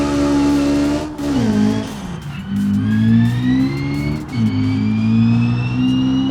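A car driven in BeamNG with a loud engine revving up through gears, pitch climbing and dropping at each shift, with tire squeal as it corners, close and continuous without talk.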